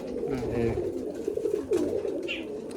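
Andhra pigeons coo in low, rolling calls close by in a loft, repeating several times, with people talking over them.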